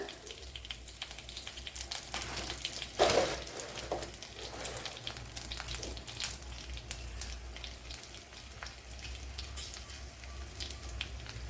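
Cloves and cardamom sizzle in hot oil in a pan while making egg stew, a steady crackling fry with a brief louder burst of spattering partway through, close by with no talk.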